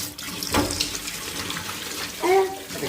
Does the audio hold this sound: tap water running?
yes